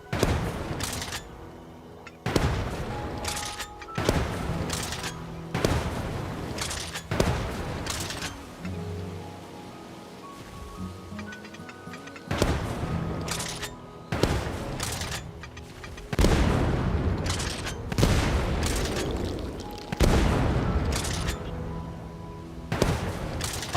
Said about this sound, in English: Why were they exploding so close?